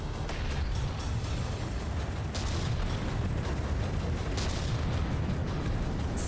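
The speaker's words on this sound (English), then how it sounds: "So we got some diff flak guns exploding here to take out missiles" Flak guns bursting to shoot down incoming missiles during a From the Depths battleship tournament fight, a dense, continuous rumble of heavy blasts with sharper cracks now and then.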